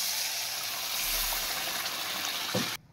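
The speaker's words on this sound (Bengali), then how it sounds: "এবার জলটা দিয়ে দাও।" Water pours into a pan of oil-fried spices for a boal fish curry, giving a loud continuous gushing hiss for nearly three seconds before it cuts off abruptly.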